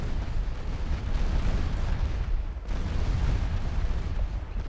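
Heavy naval gunfire from warships in Ultimate Admiral Dreadnoughts, a dense, continuous roar of overlapping booms and rumbling blasts that stays loud and close with only a brief dip midway.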